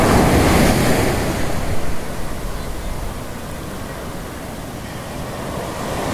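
Waves break and wash against the rocky shore of Khola Beach, a steady loud roar of surf mixed with wind buffeting the microphone.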